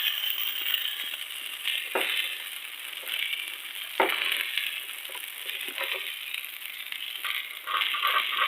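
A patty of beaten egg for an omelette fries in oil on a tawa beside a paratha, giving a steady close sizzle with a few sharp scraping strokes and no talking.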